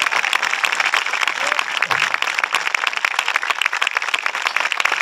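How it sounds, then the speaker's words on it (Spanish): A live show audience in Mar del Plata bursts into dense, sustained applause, loud and close, with crowd noise mixed in. "más fuerte con los aplausos para él"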